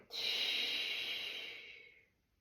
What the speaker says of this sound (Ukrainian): І сильний видох.